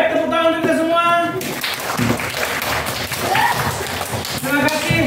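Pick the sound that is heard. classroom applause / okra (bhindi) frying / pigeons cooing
classroom applause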